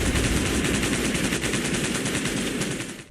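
Dense automatic gunfire as a sound effect, a rapid unbroken stream of shots rattling loud and close for about three seconds before tapering slightly at the end.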